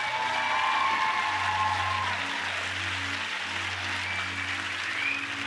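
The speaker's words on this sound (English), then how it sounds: "I think they deserve one more big round of applause." Audience at the Miss Gibraltar pageant giving the contestants a big round of applause, sustained, even clapping from a large crowd over a low steady hum, with no talking over it.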